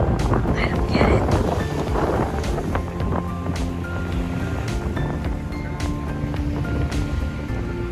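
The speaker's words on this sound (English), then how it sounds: "the waves are a little turbulent out there" Ocean surf on Anegada Island in the British Virgin Islands, with turbulent waves beside a beach bar making a constant roar mixed with heavy wind buffeting the microphone, louder bursts in the first couple of seconds, and a voice talking briefly.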